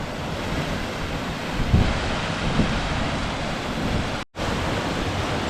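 Water rushes through a canal lock sluice as the chamber fills for a narrowboat, a steady, close, broadband roar with no voices and one brief dropout near the end.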